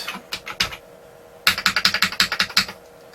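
Typing on an Apricot F2 computer keyboard running MS-DOS 3.10: a few scattered keystrokes, a pause, then a rapid run of close, crisp clicking keypresses.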